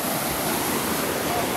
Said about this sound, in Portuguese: Olha a potência da cachoeira,